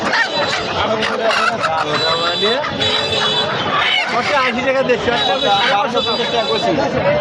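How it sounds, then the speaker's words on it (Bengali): Native chickens cluck repeatedly at the busy weekly Tongi market, their calls close and loud amid a constant hubbub of crowd chatter and bargaining voices. "একটা দেশি মুরগি উঠান"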